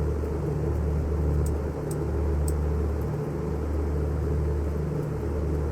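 Propeller aircraft engine running up on the ground in Microsoft Flight Simulator 2024, a steady droning hum with a low throbbing pulse that dips briefly a couple of times, close and continuous.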